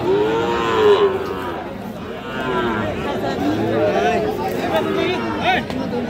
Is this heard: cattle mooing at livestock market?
yes